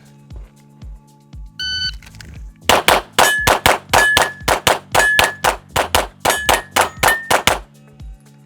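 A rapid string of gunshots hits steel plates on a plate rack. Each sharp crack is followed by a ringing metallic clang, in a fast, loud, uneven rhythm of about a dozen hits with no speech.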